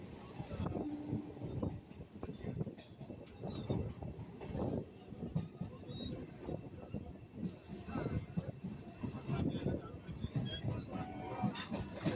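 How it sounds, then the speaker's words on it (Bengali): A suburban train rolls steadily along the rails near Majerhat station in Kolkata with a rumbling clatter and occasional wheel squeal, while a voice speaks over the noise. "মাঝেরহাট এখন ট্রেন আবার নিজের গতিতে ছুটে চলেছে"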